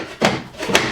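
Two sharp knocks roughly half a second apart as a plywood strip is tapped into place on a DIY plywood strip feature wall, close and fairly loud with a short ring after each hit.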